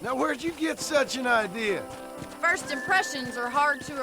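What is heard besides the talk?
No everyday noise stands out behind the speech.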